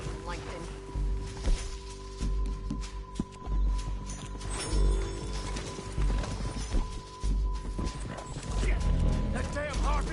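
Horse hooves clip-clop through a Red Dead Redemption 2 game scene on PS5, a steady trotting rhythm under continuous background music and talk, with occasional thuds and a possible whinny.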